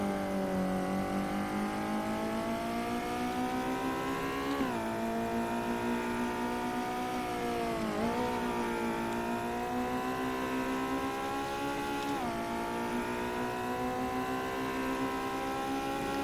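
The ARC MF16, a home-garage-built five-speed car mod in the racing sim Assetto Corsa, drones continuously at steady engine speed, its tone dipping briefly at a few gear changes and lifts before climbing again, with no talk.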